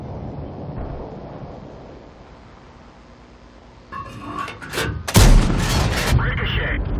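A tank shell in World of Tanks ricochets off armor during a KV-5 match, heard as one sudden, loud, sharp crack with a ringing tail after a quieter engine rumble, and a voice talks nearby.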